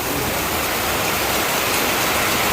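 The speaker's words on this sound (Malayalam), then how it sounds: "വേണ്ട നല്ല മഴയാണ്" Heavy rain pours down as a dense, constant hiss that stays loud and even throughout, with no voices.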